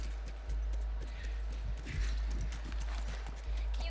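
Horse hooves clip-clop in The Last of Us video game, a run of close, distinct hoofbeats over a low hum, with faint movement noise and no talking.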